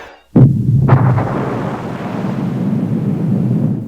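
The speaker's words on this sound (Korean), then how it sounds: "고고도 핵폭발이 발생하고" High-altitude nuclear explosion over a city, a sudden loud deep boom followed by a second blast and a long rolling, wind-like rumble that fades slowly.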